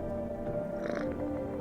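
A cat being petted in the horror game No, I'm Not A Human gives a short, soft, close purr with a faint rising murmur, with no talk over it.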